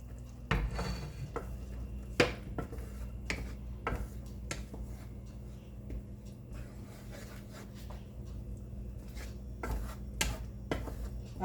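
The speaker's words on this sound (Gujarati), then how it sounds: "આ રીતે હલાવતા રહીશું આપણે" Milk boiling in a pot while a spoon stirs it steadily, giving faint repeated scrapes and taps against the pot under a low background hum, close and continuous.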